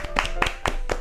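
Four sharp hand claps at a slow, even pace, close and fairly clear.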